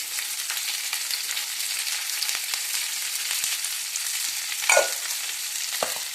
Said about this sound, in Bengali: দিয়ে আমি হালকা একটু নেড়ে দিই।